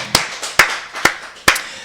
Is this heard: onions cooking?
no